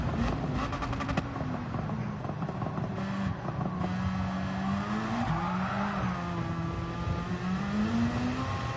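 A Mazda RX7 drift car in a racing game revs hard and rises and falls through the gears as its tires squeal through corners, with a steady loud engine drone throughout.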